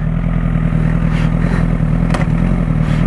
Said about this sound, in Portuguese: Olha o ronco disso, meu.